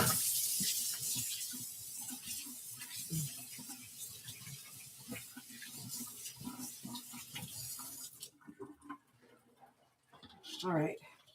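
A kitchen tap runs while hands are washed during cake baking, a close, steady hiss of flowing water that stops partway, followed by quieter handling sounds and a voice.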